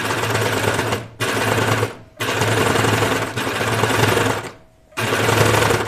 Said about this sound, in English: And this is so awkward to sew at this angle.